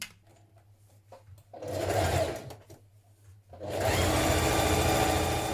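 A sewing machine runs along a hoodie seam in two bursts, a short run then a longer steady whir, close and loud, with quiet clicks and handling between and no voices.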